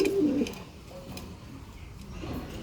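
A caged pigeon, one of a calm pair sitting on two eggs, gives a short low coo right at the start, followed by quiet room ambience.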